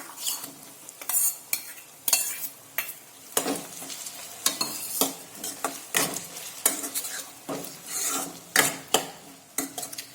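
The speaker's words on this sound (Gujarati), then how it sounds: "તો હવે આપણે જે ટામેટાં લીધા છે તે તેની અંદર લઈ લઈશું।" Chopped tomatoes added to softened sautéed onions in a pan for a tuvar totha gravy, with close scraping spoon stirs, light sizzling and metallic clinks in an irregular rhythm, no talk.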